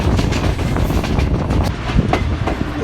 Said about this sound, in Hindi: इस वक्त हमारी टीम डाउन मिलत एक्सप्रेस गुजर रही है मोना रेलवे स्टेशन से